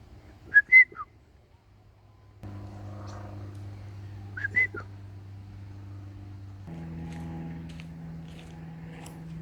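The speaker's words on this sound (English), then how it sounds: "When Michael can't see me, I just whistle at him." A person whistles short, high signal calls twice, loud and close, over low background engine-like drone outdoors at a nature reserve.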